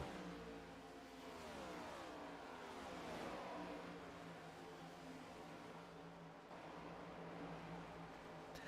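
Stock cars from the Cyber Thunder Racing series roar past in a racing game set at Las Vegas, a steady loud blend of engines sustained through the clip with rising and falling whines as the field passes.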